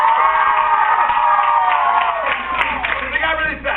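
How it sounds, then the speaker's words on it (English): A school audience cheers and shouts loudly at a juggling show, with a dense crowd of whoops and voices sustained throughout. "So if you're going to cheer, cheer really loud."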